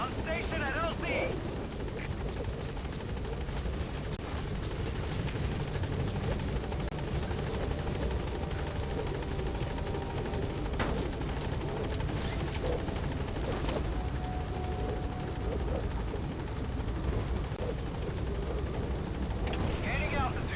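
A military helicopter arriving at a landing zone in the video game Metal Gear Solid V: a steady, loud rotor roar and engine drone persisting throughout, with game radio chatter and scattered effects layered over it.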